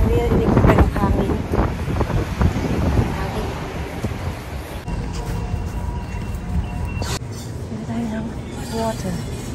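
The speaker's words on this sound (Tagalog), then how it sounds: "narinig ko pa yung hangin" Wind buffets the microphone in a low, rumbling roar throughout, with a voice speaking underneath the gusts.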